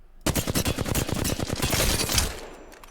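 A Flatline assault rifle in Apex Legends fires a rapid full-auto burst of sharp, closely spaced shots, loud and continuous for about two seconds before cutting off.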